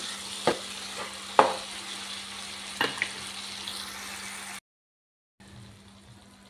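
Tomatoes cooking in a pan for a tomato chutney, with a steady sizzle and a few sharp scrapes of stirring, a silent gap, then softer sizzling resuming.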